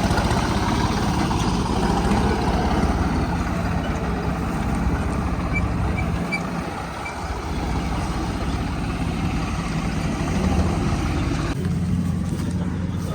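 A John Deere tractor's heavy diesel engine idles with a constant low rumble, briefly dipping and then resuming its steady throb close by.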